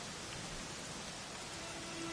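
Steady, dense rain falls with a constant hiss during a Dragon Quest XI S cutscene, heard alone with no other sounds.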